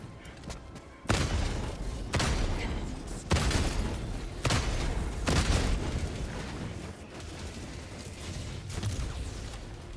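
A barrage of orbital strike explosions rocks a Helldivers 2 battlefield, with several heavy booms landing at intervals of one to two seconds, each one loud and rumbling before it tails into the next.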